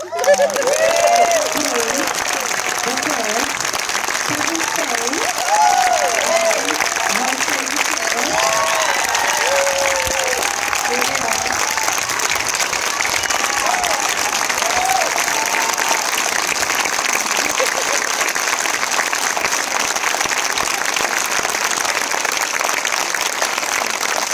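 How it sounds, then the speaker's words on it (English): An audience at a documentary screening in Toronto applauds as dancers come onto the stage, a long, even wash of clapping with a steady high hiss and some brief overlapping voices underneath. "Please applaud."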